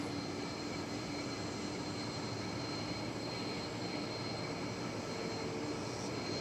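A Spirit Airlines Airbus A320 takes off at DFW Airport, a faint, distant jet roar holding steady and broadband with a thin whine on top, heard alone.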